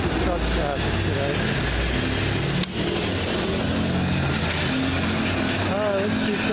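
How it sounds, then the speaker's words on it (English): Loud, steady roar of heavy truck traffic on a street in High Springs, Florida, with engines rumbling close by, a brief dropout midway, and speech-like tones faintly mixed in. "very noisy truck traffic today"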